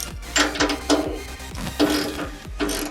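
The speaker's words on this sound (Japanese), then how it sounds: "これラチェットで使っていただいても" A quick-action wrench worked as a ratchet while tightening a flare nut or similar fitting, giving a fast run of sharp clicks in short bursts, close and fairly loud, with no talk over it.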